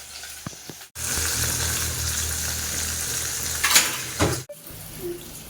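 Fish fries in a hot pan in a home kitchen, a steady, close sizzle running for several seconds, with a utensil scraping and clinking near the end before it stops abruptly.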